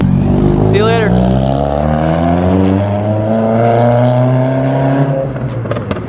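A Subaru WRX engine revs and pulls away, its tone climbing steadily and then fading as the car moves off, loud and close with a voice briefly heard under it.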